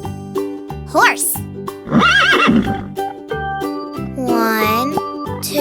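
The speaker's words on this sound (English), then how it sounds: "Horse." A horse neighs in several loud, shrill, wavering whinnies, mixed with clip-clop hoofbeats and light jingling over cheerful children's music.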